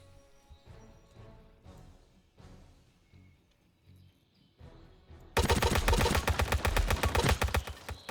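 Gunfire in a historical wargame video game: scattered single shots and thumps give way to a loud, dense rattling burst of rapid automatic fire.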